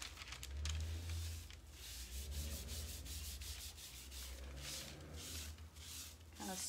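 Hands rub and smooth material flat on a side table, a soft, close, continuous brushing with swelling strokes and no speech.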